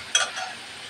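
A sharp sizzle bursts up as fish drops into hot spice paste in a pan, then settles into a soft, fading hiss over the next moment.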